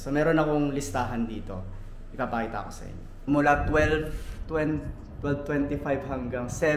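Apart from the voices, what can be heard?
None of the usual background noises is heard.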